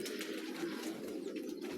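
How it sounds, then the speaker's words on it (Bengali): Soft continuous cooing of pigeons in a pigeon farm housing about twenty-three pairs, including young birds, close and steady with no talk. "এখানে প্রায় তেইশ জোড়া কবুতর আছে দেখেন কবুতরগুলো বাচ্চা কবুতর"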